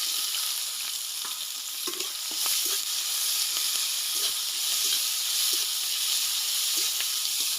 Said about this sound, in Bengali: দিয়ে দিচ্ছি গোটা গরম মশলা, দিয়ে দিচ্ছি পেঁয়াজ